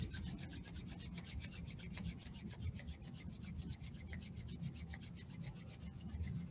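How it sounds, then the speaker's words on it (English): Palms rubbing together steadily in front of the chest during a quiet meditation, a soft continuous friction hiss with gentle repeated strokes, close and fairly faint, with no talking. "rub your palms"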